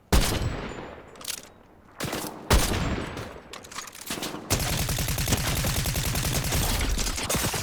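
Fortnite gunfire: separate loud shots and short bursts in the first half, then a steady stream of rapid automatic fire that carries on to the end.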